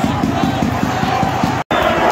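Football crowd noise at a Peterborough United versus Leeds United cup match, a dense, steady roar of massed voices with rhythmic chanting, loud and continuous apart from a brief cut near the end.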